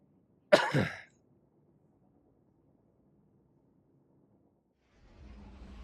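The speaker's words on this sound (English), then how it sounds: "Stupid cough." A single sharp cough, then near silence with a faint low hum, before a soft rumble rises at the end.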